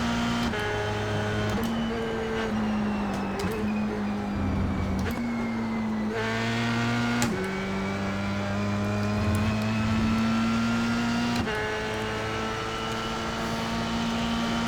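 A Formula 3 NTMV7 race car on track gives a continuous high engine whine that climbs through the gears, with sharp shift breaks and pitch drops between pulls, loud and close.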